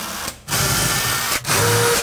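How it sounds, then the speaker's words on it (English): A power drill pre-drills screw holes in melamine board, whirring loudly in two sustained bursts separated by short pauses, close to the microphone with no talking. "We're gonna pre-drill our holes because melamine does not do well."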